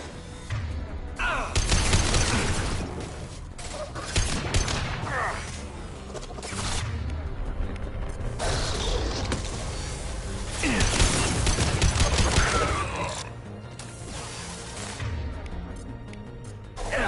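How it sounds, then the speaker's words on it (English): Gunfire rattles through a combat scene in Mass Effect 2 Legendary Edition on the Horizon mission: repeated loud shots, whooshes and crashing impacts layered into a busy, continuous battle din. "Firing a high-impact shot."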